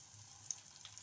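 A soft, steady sizzle of spices frying in hot oil for tempering dal, quiet and brief, with a tiny pop partway through.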